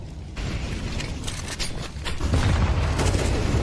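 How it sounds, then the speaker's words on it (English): Explosive boom of a grenade going off in a Counter-Strike 2 match on the Ancient map, a loud blast followed by rumbling gunfire and game action with dense, sustained noise. "Big nade"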